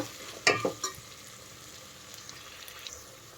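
Ginger paste frying in a pan for vegetable biryani, with a soft continuous sizzle and a few sharp clinks of a spoon against the pan early on, close and fairly quiet.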